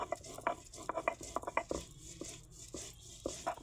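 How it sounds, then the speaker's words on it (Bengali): Mustard seeds ground by hand on a stone slab with a stone pestle (shil-nora), giving irregular gritty scrapes and knocks in quick uneven strokes, close and fairly soft. "সরিষাটাকে আমি বেটে নেব, শিলনোড়ায় বেটে নিচ্ছি।"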